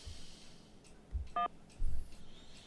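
Telephone keypad tones sound while a caller works through an automated call menu: a few short, quiet beeps spaced apart over faint background hiss.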